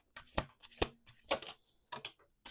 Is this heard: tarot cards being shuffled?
yes